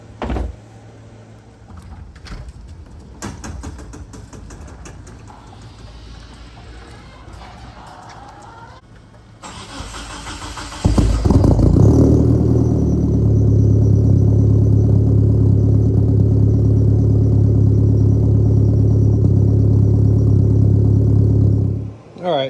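A 1997 Mitsubishi Eclipse GSX, converted to speed density and running E85, cranks and fires up, then settles into a loud, steady idle, after quieter clatter and talk beforehand.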